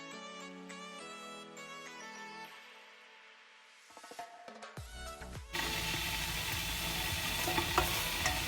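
Music plays alone at first. Then a loud, close burst of stirring and sizzling takes over as a beef stew with green pepper and parsley is mixed in the pot.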